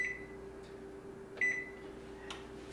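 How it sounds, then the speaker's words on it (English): A kitchen timer being set gives a few short, faint electronic beeps at irregular intervals over a steady low hum, with no talking. "Go ahead and set your timer to 20 minutes."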